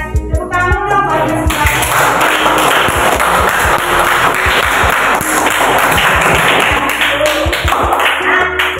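Lively applause from a classroom group, many hands clapping densely and steadily for several seconds at close range, fading out at the end.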